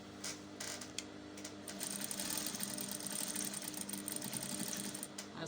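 A sewing machine runs steadily while back stitching a wrap blouse, its close, continuous mechanical whir and needle chatter holding for several seconds with no voices.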